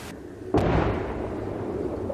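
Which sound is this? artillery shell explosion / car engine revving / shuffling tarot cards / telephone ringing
artillery shell explosion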